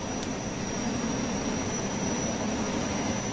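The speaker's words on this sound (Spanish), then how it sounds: "se aproxima un jet" A jet aircraft passes overhead in the survival game Unturned as a steady, broad engine roar with a faint high whine, holding level and fairly loud throughout with no talk.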